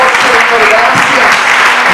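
A church congregation claps steadily through a Spanish-language worship service while a voice carries faintly over the broad, continuous applause.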